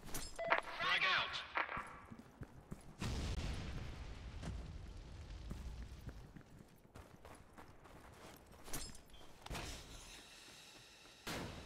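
A frag grenade detonates in a tactical shooter video game, a sharp close blast at about three seconds followed by a long rumbling decay, with scattered gunfire and a voice earlier in the round.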